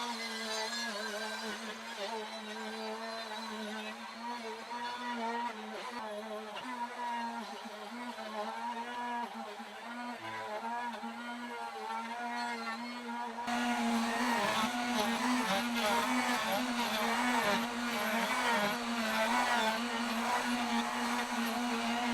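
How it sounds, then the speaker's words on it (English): A router on homemade router rails skims its lowered bit across a board surface. The motor whine is steady and close, and it grows noticeably louder and rougher near the end. "I lowered my router bit just enough that I can skim across the surface"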